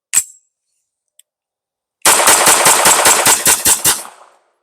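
A Grand Power K22 MK12 .22LR pistol fires Arms Core ammunition in a rapid string of about ten sharp, loud cracks at a steady rhythm, after a single shot and a faint click heard earlier on their own.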